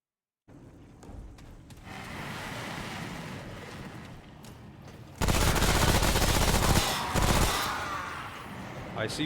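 Gunfire in the Remnant: From the Ashes video game, shots and bursts under a steady noisy game bed, growing much louder and denser partway through with rapid repeated firing; a voice talks over parts of it.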